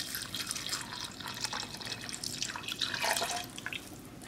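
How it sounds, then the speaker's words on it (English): Beef broth poured into an Instant Pot holding beef, onions and vegetables, a soft continuous splashing trickle close by, quiet and alone with no talking. "I'm going to add 2 more cups so I have more liquid in here."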